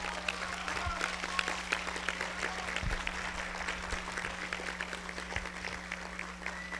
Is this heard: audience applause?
yes